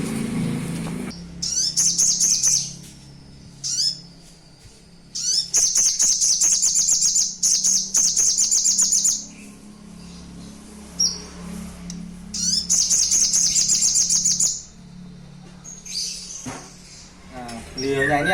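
White-rumped shama (murai batu) at a breeding farm sing in loud, bright bursts of rapid chirps and whistles, repeating in several long phrases with short gaps, over a steady low background hum.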